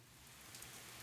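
Steady rain falls in the video game Slender Threads, a soft, even hiss of drops on a street surface with no pauses or distinct thunder.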